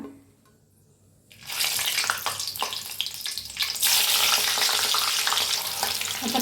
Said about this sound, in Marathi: आता मिरच्या तळून घेऊया